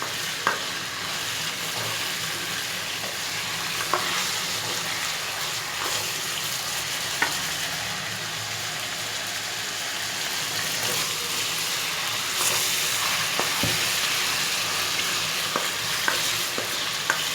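Chicken pieces fry lightly in a karahi for a dhaba-style chicken karahi, a steady close sizzle running throughout, broken by scattered scrapes and knocks of stirring, with no voices.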